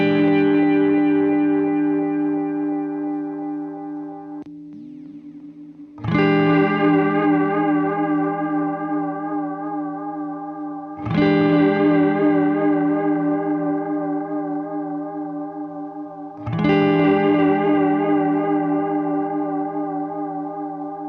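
An electric guitar runs through a JHS Oil Can Delay pedal with its modulation switch up, so the echoes take on a wavering, vibrato-like shimmer. Four strummed chords ring out in turn, each trailing off into warbling repeats, with no voices.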